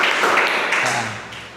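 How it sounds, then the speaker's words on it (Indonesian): School class applauding briefly, a short burst of many hands clapping nearby that quickly fades, with a faint voice underneath. "Kasih tepuk tangan dong."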